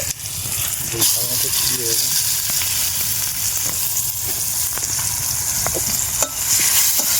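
Chopped onion, slit green chillies and bay leaves frying in leftover egg-frying oil, with no extra oil, for a poppy-seed dish: a steady close sizzle with stirring scrapes throughout.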